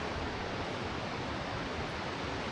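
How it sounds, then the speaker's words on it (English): Forest waterfalls flowing out of sight: a steady, even wash of rushing water that is fairly faint and continuous, with no voices or other sounds over it. "You can hear the waterfalls."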